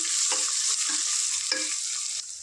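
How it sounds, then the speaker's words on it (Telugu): Ginger garlic paste fries in plenty of oil for a Telangana-style boti curry, a steady close sizzle broken by several scraping stirs of a spoon in the pan, with no talking. "ఇది అల్లం వెల్లుల్లి పేస్ట్ పచ్చివాసన పోయేదాకా ఫ్రై చేసుకోవాలి"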